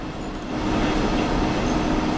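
Steady electric locomotive rumble from a DB BR112.1 in Train Sim on the Hamburg–Lübeck main line, running at about 60 with continuous wheel-on-rail noise and a low hum, building slightly louder and holding even throughout.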